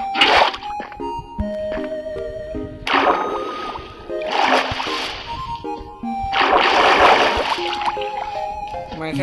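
Minecraft water placed during a fall clutch, a series of splashy whooshing bursts of flowing water that swell and fade several times over a background of tonal game music, with no talk.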